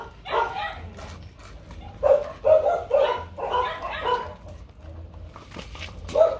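A five-month-old male Rottweiler puppy lets out a series of short barks and yips in quick bursts, close and fairly loud, with a brief whimper near the end.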